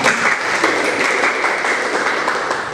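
Classroom applause from students after a pupil correctly answers a civics question, a steady dense wash of clapping at moderate loudness with no talk over it.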